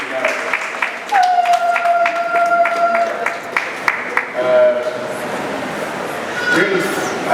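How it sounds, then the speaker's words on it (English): Wedding guests applauding during the ceremony, a loud burst of clapping hands that starts suddenly and continues under talk and a sustained tone, fading and swelling again toward the end. "Let us clap hands for this scripture."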